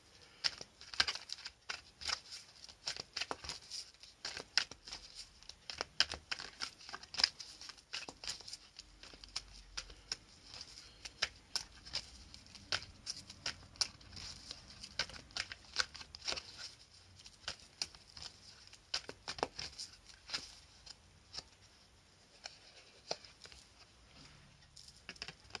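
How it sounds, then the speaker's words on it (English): Close, continuous soft shuffling, riffling and tapping of an oracle card deck, quiet papery patter lasting many seconds with no talk. "So let's draw a card and see."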